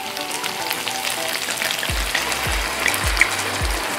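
Red wine hits a hot pan of onions and meat with a loud, steady sizzle, and a few low rattling scrapes come near the end.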